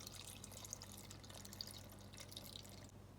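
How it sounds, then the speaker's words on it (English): Faint water being poured into a pickling jar holding vinegar and garden vegetables, with soft trickling and small drips continuing for a few seconds. "I'm gonna go in and add some water."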